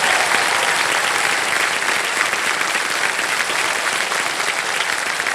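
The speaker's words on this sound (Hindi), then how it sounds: "जोरदार तालियां बज जाए इनके लिए।" Studio audience applause on the quiz show Kaun Banega Crorepati, a loud, dense, continuous burst of clapping that holds steady for several seconds without talk over it.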